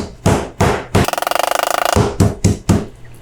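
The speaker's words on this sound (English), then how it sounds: "And now we pound with the flat side." Chicken thighs under a layer of plastic are pounded with the flat side of a meat mallet to an even quarter-inch thickness: a few loud, separate thuds, then a rapid run of about twenty quick blows, then more single heavy whacks.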